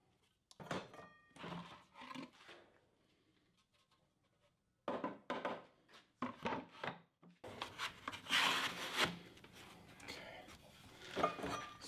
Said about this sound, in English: Just gotta clean up the edges with some sandpaper.